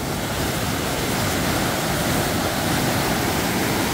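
Rushing floodwater from a flash flood, with a young man trapped in the swollen current, roars as a loud, steady broadband wash. The rush is continuous and close for the whole stretch, with no voices.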